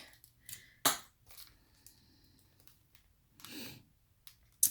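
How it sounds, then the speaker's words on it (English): Scissors snip and crinkle through packaging close up, with scattered sharp clicks and rustles separated by quiet pauses. "let me grab some scissors for this"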